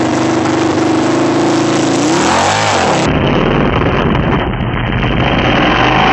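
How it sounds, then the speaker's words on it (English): A motorcycle engine revs as the bike rides up a loading ramp, a steady mid-pitched drone that swells and bends in pitch midway, then gives way to a rougher, louder engine roar that continues to the end. "You don't have to worry about the bike stalling or losing traction halfway up the ramp like this."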